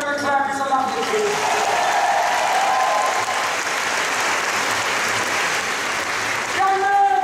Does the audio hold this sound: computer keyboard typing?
no